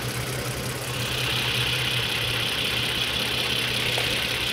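A Toyota Avalon engine idles with a misfire, giving a steady mid-level hum with a persistent low tone and faint irregular knocking, heard alone at close range.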